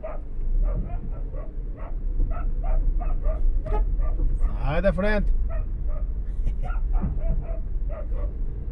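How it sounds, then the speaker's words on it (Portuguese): A dog barks repeatedly in a quick, steady series at a car's wheel over a constant low engine drone on a dirt road, while a person speaks briefly partway through. "latindo na roda do carro"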